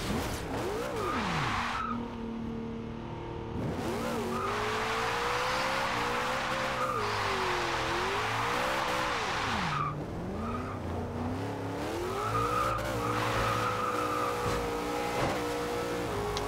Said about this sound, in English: We gotta spin them tires.